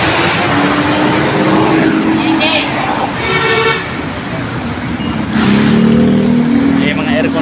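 A large air-conditioned bus drives near the Pasig–Marikina boundary with a loud, steady roar of engine and road noise throughout, broken by a few brief tonal hoots.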